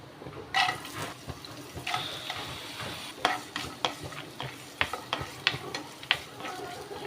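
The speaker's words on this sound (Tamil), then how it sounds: "தேங்காய் வந்து நெய்யில் நல்லா கோல்டன் ப்ரௌன் வர வரைக்கும் நல்லா ஃப்ரை பண்ணி எடுத்துக்கோங்க" Small coconut pieces frying in ghee in a pan until golden brown, with a soft, continuous sizzle and frequent close stirring scrapes and taps, no talking.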